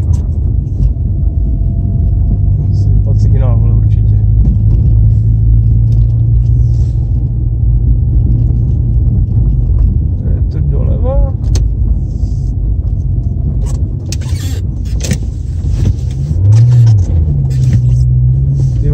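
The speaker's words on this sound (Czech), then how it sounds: "Auto." A car driving through deep snow and drifts in winter, a loud continuous engine rumble with strained revving up close for the whole stretch, with voices and brief squeaks over it.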